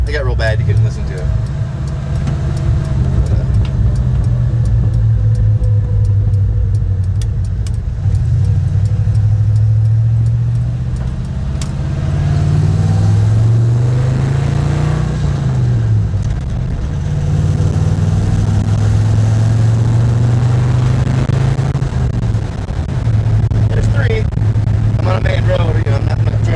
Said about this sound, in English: So I'm gonna try and get you some better exhaust notes.